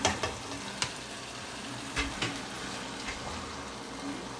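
Rice added to a sizzling one-pan chicken dish: a steady close frying hiss, broken by a few sharp clicks and soft thumps early on as grains hit the hot pan.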